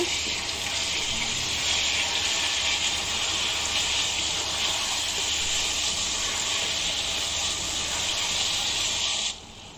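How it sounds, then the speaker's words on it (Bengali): Ginger and garlic paste sizzles and fries in a pan with mango for a sweet, sour and spicy green mango pickle, a steady, fairly loud hiss that cuts off abruptly near the end. "আদা বাটা দিলাম এক টেবিল চামচ রসুন বাটা এক টেবিল চামচ দিয়ে এগুলো ভালো করে কষিয়ে নেব"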